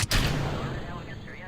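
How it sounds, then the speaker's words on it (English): In Kerbal Space Program, a rocket motor ignites after staging with a sharp, loud burst that settles into a sustained, fading roar. "Fire our next rockets. They are going to be loud."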